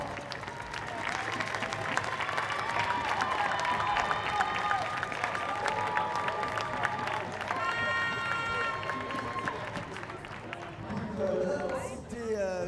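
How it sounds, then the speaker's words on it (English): Audience applause for the Swiss and Singapore men's tchoukball teams after a Nations Cup semi-final, a sustained dense clapping wash with crowd noise that fades late, while an announcer talks over it. "On peut les applaudir bien fort encore une fois."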